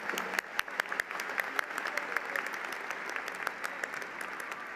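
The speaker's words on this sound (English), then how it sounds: "Huge round of applause for Stephanie, the graduate of the Master of Science in Bioinformatics." A commencement audience applauds a graduate receiving a Master of Science in Bioinformatics, with scattered, moderately distant clapping and sharp individual claps standing out, steady throughout.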